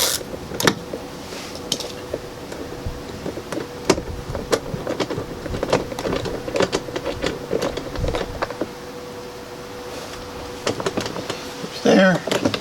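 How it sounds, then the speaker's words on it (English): A ratchet with a 10 millimeter socket loosens a fastener during a window motor replacement on a 350z Roadster, making a series of close, irregular clicks, with people talking nearby. "Use a ratchet to get it open some."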